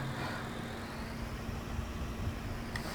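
Two tractors drive in Farming Simulator 19, a steady low engine drone with a constant hum running throughout, moderately quiet and alone.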